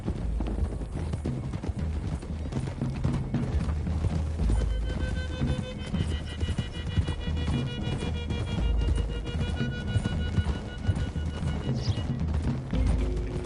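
Horses gallop over open ground toward the hills in Red Dead Redemption 2, hooves drumming in a fast, continuous rhythm under rumbling movement, with brief high tonal accents and no clear voices.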